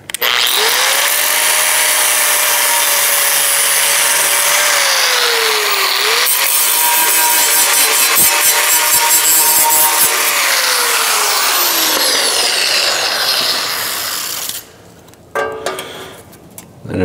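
A power cutting tool slices through the metal front fascia of a 1970 Chevrolet El Camino, a loud continuous whine and grinding that shifts pitch as it bites, then stops near the end with brief clatter.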